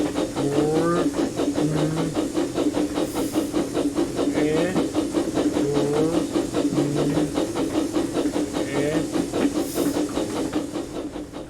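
A miniature railway steam engine hisses steadily with a rhythmic chuffing pulse, the sound close and continuous for over ten seconds, with occasional brief voices in the background.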